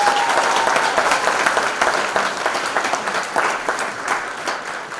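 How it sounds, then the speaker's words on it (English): A pageant audience gives Miss Racine candidates a loud, sustained round of applause, dense clapping filling the hall evenly from start to finish with no break. "Let's give our Miss Racine candidates one more round of applause"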